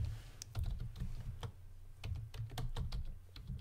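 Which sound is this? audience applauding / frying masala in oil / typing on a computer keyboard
typing on a computer keyboard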